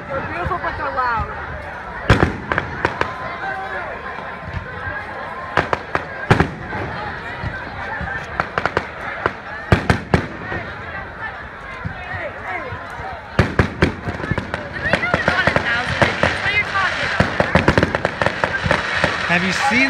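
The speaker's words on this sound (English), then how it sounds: "Fireworks so pretty!" Fireworks exploding, with sharp, loud bangs at irregular intervals and crackling bursts that grow denser toward the end, and people talking faintly underneath.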